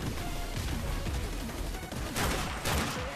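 Call of Duty gunfire from a multiplayer match, dense rapid shots and crashing bursts filling the scene, with louder blasts near the end.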